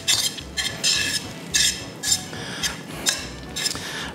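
Pasta carbonara being stirred and tossed in a pan, with repeated bright metallic clinks and scrapes of a utensil against the pan in an uneven rhythm, close and fairly loud.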